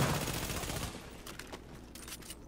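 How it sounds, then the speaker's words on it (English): Gunfire in The Division, a dense burst of shots at the start that gives way to scattered quieter shots further off over a steady background. "You're over here shooting at me."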